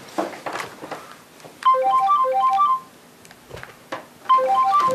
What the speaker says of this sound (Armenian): Զանգում են, ընկերությունից ա։